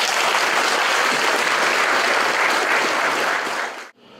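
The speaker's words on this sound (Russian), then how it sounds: "Аплодируем." A school audience at a last-bell ceremony gives loud, continuous applause at a steady level, then it dies off abruptly just before the end.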